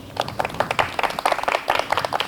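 An audience at a live event at Gillette Castle State Park claps steadily, a dense run of applause with many overlapping hand claps, fairly close and even throughout.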